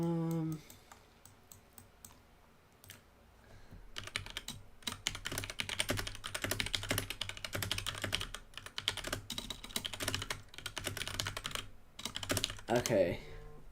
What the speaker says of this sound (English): Yeah, I do know my keyboard's pretty loud.